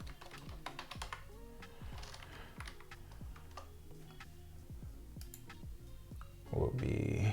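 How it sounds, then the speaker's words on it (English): Someone types on a computer keyboard in quick, uneven bursts of light, close clicks and taps, ending with a louder rustle near the end. "I just typed in property taxes for my state."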